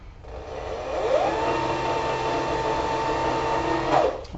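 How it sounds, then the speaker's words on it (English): A leather skiving machine runs steadily while thinning bag pieces, giving a continuous close mechanical whir with a brief rise and fall near the end of the pass. "Skived up the entire bag."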